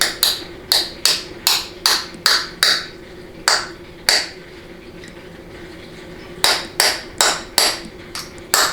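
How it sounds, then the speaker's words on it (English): A small hammer strikes a drift punch to drive out a part during a 4L80E transmission teardown, giving sharp metallic taps in quick bursts, a run of rapid hits, a pause, then another fast series, close and loud. "you can smack this out with a regular drift punch and a small hammer"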